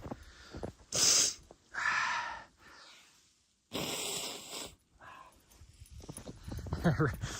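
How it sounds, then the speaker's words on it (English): A few loud, breathy nasal blasts in short bursts, someone honking their nose hard, close up, with some shuffling and faint rustle between. "Okay, I gotta blow my nose out."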